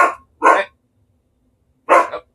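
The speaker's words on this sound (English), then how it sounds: "Are you barking at the fact that a video" A husky barks three times in short, loud, close bursts, with a pause between the second and third barks.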